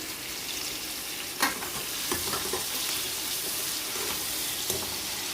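Tomatoes frying and being stirred in a pan for a Telugu bommidala fish pulusu, a steady sizzle with a few scraping stir knocks, close and continuous with no talking.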